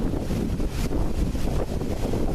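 Strong wind buffets the microphone outdoors, a continuous rough roar with gusty fluctuations filling the short moment.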